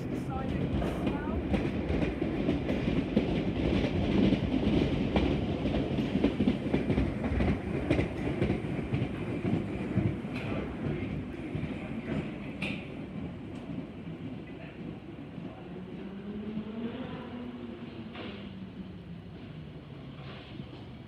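A train pulls away from the platform at Harrow & Wealdstone station in London, a steady rolling rumble with rhythmic wheel clatter that gradually eases as it moves off, with faint station ambience throughout.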